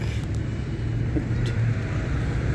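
Steady road traffic rumble from many cars packed bumper to bumper on a congested street, a continuous loud low drone with no talk over it.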